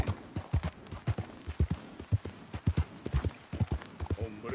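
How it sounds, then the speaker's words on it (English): Hooves clip-clop in a quick, uneven rhythm on hard ground, a horse trotting in the video game Red Dead Redemption 2, moderately close and without talk. "Oh, it's just a horse."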